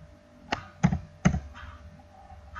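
A computer keyboard is struck while code is deleted: three sharp, close key taps in quick succession, then a fainter tap or two and a quiet background.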